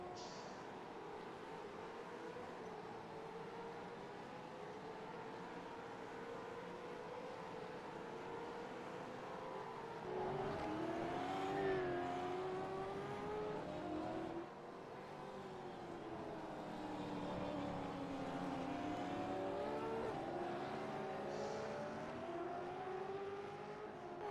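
Gen3 V8 Supercar engines race in a sim racing game, a steady droning roar with rising and falling revs as cars shift and pass, continuous throughout with no talk.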